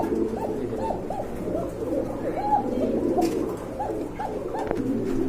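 Pigeons cooing at a Bangladeshi pigeon seller's stall: repeated soft, rolling coos overlap steadily throughout, close and continuous, with low background hum and no talk.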